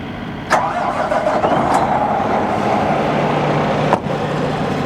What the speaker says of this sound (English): you're going to start the truck you're jumping off of